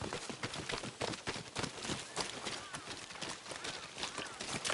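Rapid clip-clop of horse hooves on hard ground in a video game, a steady galloping rhythm close by, with no voices.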